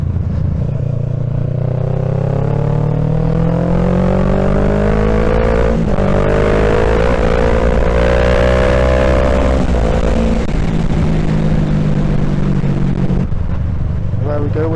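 A motorcycle with a Scorpion slip-on exhaust, baffle removed, idles loud and close with a deep throaty burble. It revs up in a long rising sweep, then settles back to a rough idle.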